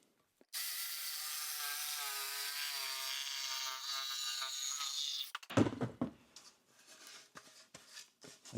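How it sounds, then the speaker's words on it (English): A jigsaw cuts a tongue-and-groove pine ceiling board in one steady, loud, close whine lasting several seconds. It stops abruptly, and clattering knocks and handling of the board follow. "so I can just jigsaw it out."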